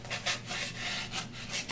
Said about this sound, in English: when you have a piece of styrofoam, now you can cut with a sawing action like this.